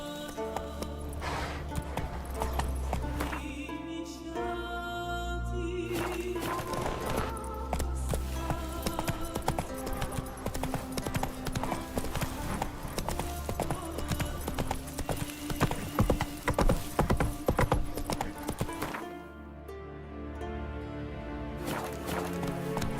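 A horse gallops along in The Witcher 3, its hooves clip-clopping in a fast, steady rhythm close by, with game music and a brief pause partway through before the hoofbeats resume.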